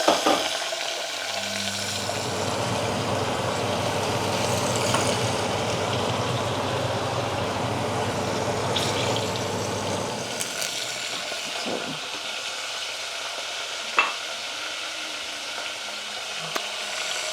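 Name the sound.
guar beans frying in oil in a covered pan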